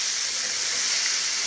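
Constant bright sizzle of snapper frying in oil, a dense crackling hiss at steady volume with no other sounds.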